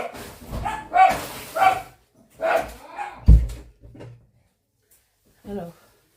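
Dogs indoors give a handful of short barks and whimpers in separate bursts, close by, with quiet gaps between them and a voice nearby.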